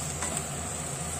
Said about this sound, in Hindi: ये 1 टीस्पून पिसा धनिया और 1/2 टीस्पून हल्दी डालेंगे और इसको अच्छे से चलाएंगे।